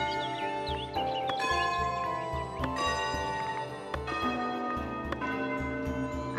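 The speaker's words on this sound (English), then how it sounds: "Now you can change your bell's tempo, count, start delay." A church bell tolls repeatedly in the village-building game Foundation, its ringing strikes coming at a steady tempo over ambient game music and background chimes, with no talking.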